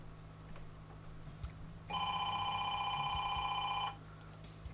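A telephone rings in the trucking video game 18 Wheels of Steel: Extreme Trucker, a steady electronic trill lasting about two seconds over a low engine hum, clear and moderately loud.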